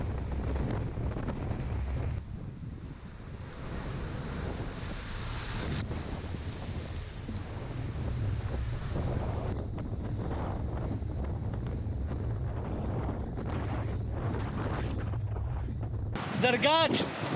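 Strong wind buffets the microphone with a constant roar, heavy surf and sea noise beneath it, continuous throughout, on the coast at Dwejra, Gozo, Malta.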